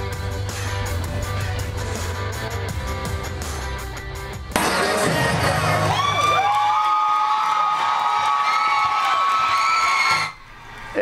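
Students at a Jordan Middle School pep rally held by the Kyle Pitts Foundation cheer and shout together, a loud crowd roar that swells partway through and holds with high whoops before cutting off.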